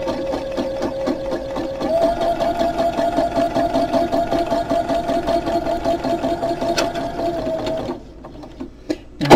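A sewing machine running a straight stitch down a journal spine, a fast even mechanical chatter with a steady motor hum, close and continuous before it stops near the end.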